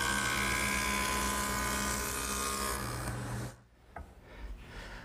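A wood jointer planes the edge of a ripped board with a loud, steady machine whine and cutting buzz that winds down and stops after about three and a half seconds.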